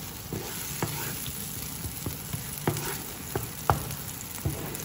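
Boiled chard sautéing in a pan with three garlic cloves, an onion, chili flakes and black pepper, giving a steady close sizzle broken by scattered sharp taps and scrapes of a ladle stirring, with no voices.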